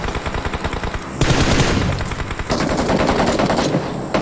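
Gunfire in a competitive esports scrim: loud, sustained automatic bursts of rapid shots that pause briefly and then resume even denser, close and dominating throughout.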